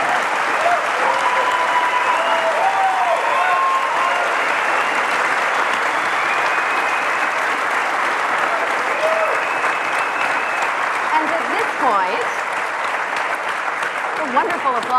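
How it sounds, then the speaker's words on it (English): Sustained applause from a large audience at a string theory panel event, thick, loud clapping holding steady for the whole stretch, with scattered voices and whoops mixed in. "Wonderful applause."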